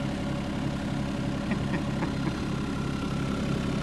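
A mini excavator engine idles with a steady, close, low rumbling drone, joined briefly by a few faint higher clicks partway through.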